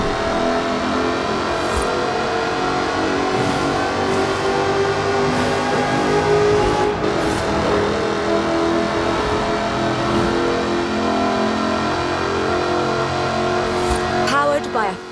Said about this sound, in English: Powered by a 5-litre V8 supercharged engine, with a fully aluminium body, it's blisteringly fast